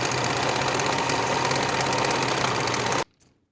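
A sewing machine finishes the raw edge of a skirt's center front seam, running in one fast, continuous, rhythmic whir for about three seconds and then stopping abruptly. A faint clatter follows.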